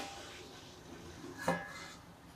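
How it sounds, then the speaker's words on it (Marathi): A single short clink of a lid set on a cooking pan of spicy double bean vegetable curry, faint and close, over a quiet simmering background. "गॅस बारीक करते आणि आता याच्यावरती झाकण ठेवूया 1-2 मिनिटासाठी"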